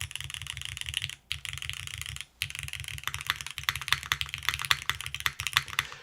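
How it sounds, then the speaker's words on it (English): Rapid, steady typing on a custom Aepex60 mechanical keyboard, dense clacking keystrokes with a deep, bassy tone and two brief pauses, close and alone. "it's a little bit of a bassier sounding board. I can hear a lot of bass."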